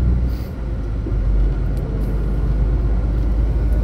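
A car merges onto a motorway under full throttle, its engine giving a loud, steady, close rumble that holds without a break for several seconds.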